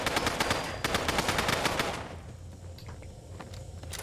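Rapid bursts of gunfire from the video game Fallout 4 crackle loudly for about two seconds, then fade into quieter scattered shots and ambient game noise.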